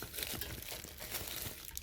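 Plastic bags crinkle and rustle continuously, close and fairly loud, with no speech, as drinks, a candy bar and ice blocks are packed into a kayak cooler.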